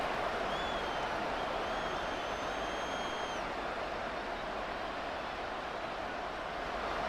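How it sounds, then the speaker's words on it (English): Stadium crowd noise in the Madden 24 football game, a Lions vs Cowboys matchup, forms a dense, steady roar throughout, with faint whistle-like tones drifting above it and no clear talking. "this crowd doing their best to make a lot of racket"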